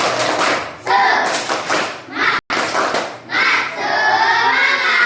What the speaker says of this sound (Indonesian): berikan tepuk tangan semangat